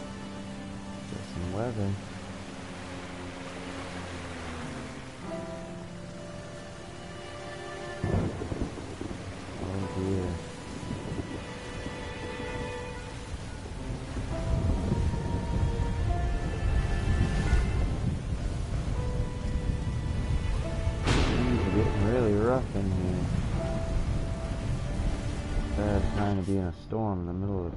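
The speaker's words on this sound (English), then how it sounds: "Storm in the middle of the friggin' city" Steady rain pours across a city in the video game Submerged Hidden Depths, with deep rolling thunder swelling partway through and the downpour growing heavier, while a person speaks briefly over it.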